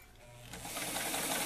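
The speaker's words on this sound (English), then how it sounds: "you just sew straight across the top about a quarter inch." A sewing machine stitches straight across the top of an 18-inch doll apron about a quarter inch from the edge, a quiet rapid mechanical whirr that starts softly and builds into a steady run, with no voices.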